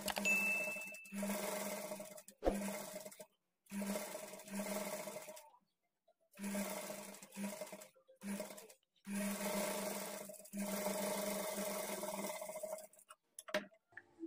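A sewing machine stitches a small frill onto a blouse, running in several steady bursts of motor whir with short pauses between them, fairly close and with no talk.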